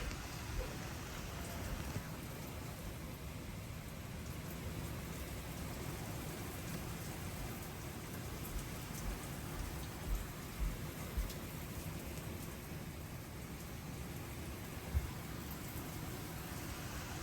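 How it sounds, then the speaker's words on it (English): Heavy, drenching thunderstorm rain pours down in Pompton Plains, New Jersey, a dense roaring hiss that stays steady throughout, with a few faint low thumps that may be distant thunder. "Sheets of rain."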